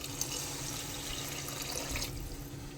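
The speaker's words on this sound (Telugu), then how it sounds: "గ్లాస్ బియ్యానికి 2 గ్లాసులు వాటర్ పోసుకున్నాము" Water is poured onto rice in a pot for vegetable biryani, a faint continuous splashing pour with no talk.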